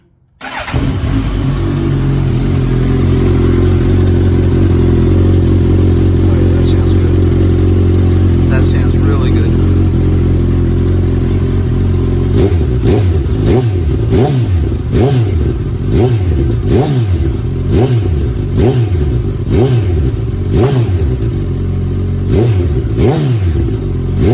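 A 2019 Suzuki Katana 1000 motorcycle starts up and idles without its exhaust restrictor baffle, then is revved repeatedly in rhythmic blips, loud and close throughout.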